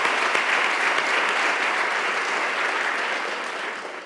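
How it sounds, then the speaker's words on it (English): A round of applause from an audience at a state-of-schools address, dense sustained clapping from a large crowd that stays loud and even before slowly tapering off at the end. "Again, it's a round of applause."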